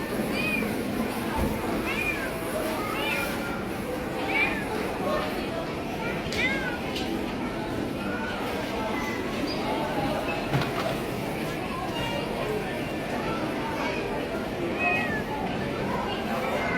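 A cat meows repeatedly in a busy indoor space, with several short mews scattered throughout under steady talking and crowd background noise.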